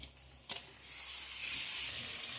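Chicken pieces dropped into hot oil with fried onions: a brief clatter, then a sudden loud hissing sizzle that swells and holds steady before easing slightly, no voices.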